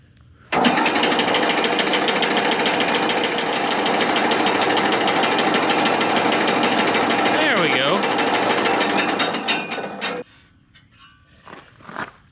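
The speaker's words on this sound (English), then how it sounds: "the blades are hitting at the top of the shroud here" A mystery power unit engine cranks over with its fan blades hitting the top of the shroud, a loud, steady mechanical chatter that starts abruptly and runs about ten seconds before stopping, followed by a few faint clanks.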